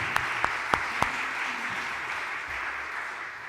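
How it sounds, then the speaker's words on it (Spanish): Audience applause for a speaker at a legal conference on the rights of people with disabilities, a few sharp nearby claps opening into a steady, moderately quiet wash of clapping that fades slightly toward the end. "Les ruego que le brindemos de nuevo un gran aplauso."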